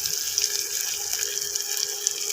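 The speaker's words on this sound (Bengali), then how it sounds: "এবার দিয়ে দেবো জল," Water gushes steadily into a pot of Bengali rohu fish curry with capsicum, a close, continuous pouring splash that lasts the whole moment with no talking.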